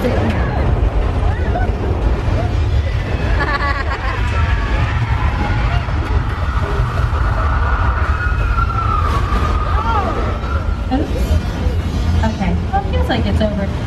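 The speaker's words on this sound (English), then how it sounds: "we got the ceiling caving in. The floor is breaking apart." Effects from the earthquake attraction at Universal Studios roar as a mock subway station collapses: a loud, continuous rumble with creaking, wailing tones and crashing debris, while people talk over it.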